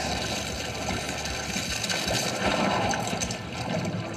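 Steady rushing water fills the clip with a dense, hissing wash and faint crackle throughout, fairly loud and constant.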